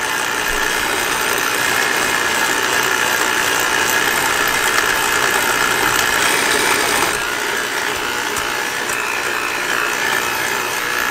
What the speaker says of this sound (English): Now I'm going to get my mixer and mix this up together.